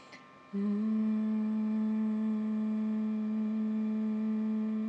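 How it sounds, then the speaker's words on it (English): A single voice hums a steady, sustained M tone during a vocal toning exercise, starting after a short breath and holding one pitch clearly and alone. "breathing in and humming it out on an M"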